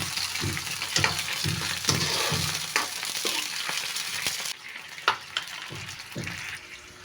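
Onion and canned sardines sauté in a hot pan, a continuous close sizzle broken by clinks and scrapes of stirring, easing slightly in the second half, no talking.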